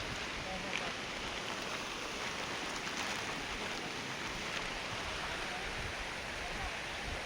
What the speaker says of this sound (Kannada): ಮಳೆ ಸ್ವಲ್ಪ ಕಡಿಮೆ ಆಯ್ತು ಇವಾಗ.